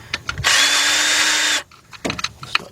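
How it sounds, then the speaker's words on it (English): A cordless drill spins out bolts during a timing belt and water pump job on a Kia/Hyundai V6, giving one loud, steady high whine of about a second, with quieter clanks of work before and after. "I got my little cordless drill hooked up into this."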